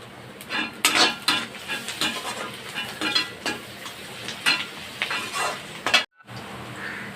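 Onions and garlic sautéing in a pan, a steady sizzle broken by repeated scraping stirs from a spatula and a few light clinks of utensil on metal, close and moderately loud, with a brief silent gap near the end.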